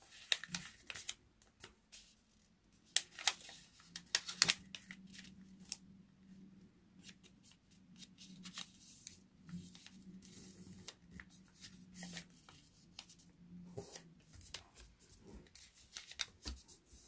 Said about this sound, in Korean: 가위로 잘라주세요. 깊숙이 넣어 자르는 것이 좋아요.